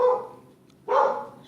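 A dog barks twice at close range, the two loud woofs separated by a short pause, with no voices.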